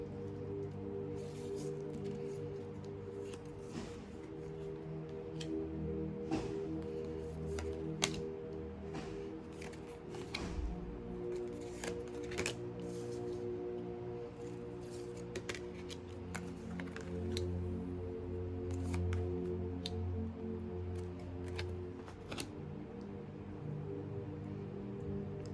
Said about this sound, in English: It does take me a little bit to place the cards down.